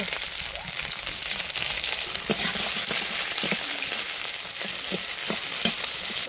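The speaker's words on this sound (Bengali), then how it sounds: "জিরে ফোড়ন দিলাম।" Cumin seeds and dried red chillies temper in hot oil, a loud, steady close-up sizzle with faint stirring knocks spread through it.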